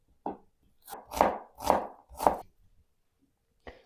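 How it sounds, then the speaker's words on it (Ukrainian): Several crisp knife chops dicing an onion on a cutting board, about five in an uneven rhythm, close and clear with quiet gaps between. "Спочатку наріжу кубиком цибульку."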